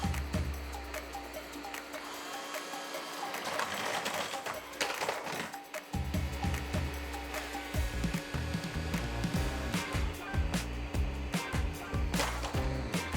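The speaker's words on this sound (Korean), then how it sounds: "3cm 단일 문턱 정도는 가볍게 넘어가고 6cm 이중 문턱의 경우 단번에 넘지는 못하고 여러 번 시도하긴 했지만 결국 포기하지 않고 잘 넘어가는 주행 능력을 보여줬어요" A Roborock S10 MaxV Slim robot vacuum climbs 3 cm single and 6 cm double door thresholds. It makes a steady motor whir with irregular clicking and clattering bumps from repeated climbing attempts, at moderate loudness and with no talk.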